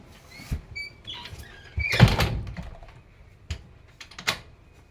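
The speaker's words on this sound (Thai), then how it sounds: "เดี๋ยวแม่ปิดประตูก่อน" A door being closed at home, with several knocks and bumps and a louder clunk of the door shutting in the middle, close by with no talk.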